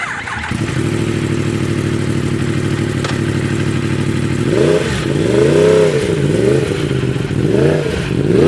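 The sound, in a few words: Yamaha YZF R1M 2018 with loud SBK exhaust revving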